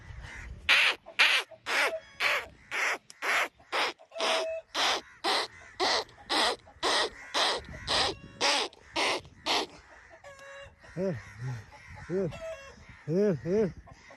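Crows caw loudly in a rapid repeated series of harsh calls, close by, followed by fewer caws mixed with other bird squawks.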